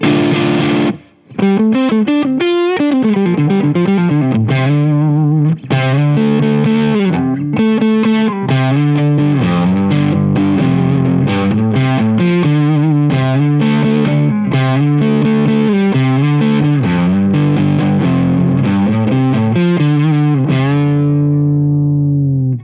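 Fuzzy, distorted electric guitar through a Boss DS-1 pedal on the neck pickup, playing a melodic line of quick, bending notes, warm and rounded in tone, ending on a sustained fading note.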